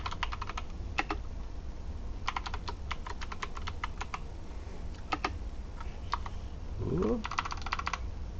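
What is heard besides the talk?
typing on a computer keyboard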